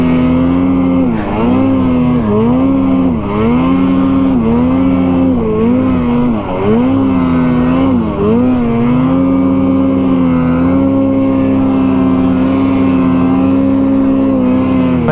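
A snowmobile engine revs continuously during a ride with a new belt fitted, its loud, close drone rising and falling in pitch through repeated throttle swells with no speech over it.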